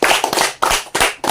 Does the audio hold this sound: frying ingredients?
no